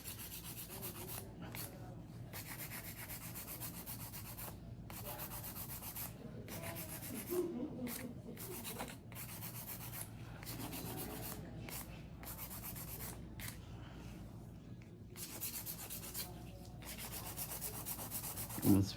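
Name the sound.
hand filing nails with nail file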